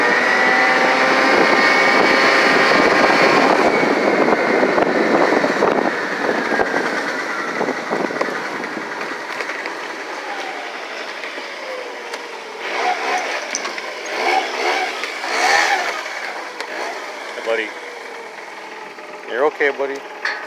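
Small Hyosung SF50 50cc scooter engine running rough, droning loudly at first, then fading and fluctuating unevenly toward the end.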